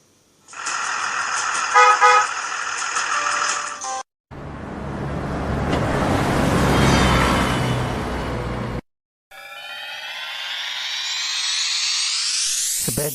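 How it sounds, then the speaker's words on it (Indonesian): A bus sounds a loud, steady multi-tone horn, then its engine rumbles with a broad roar for several seconds, followed by a rising whoosh after a short gap. "mobil bus"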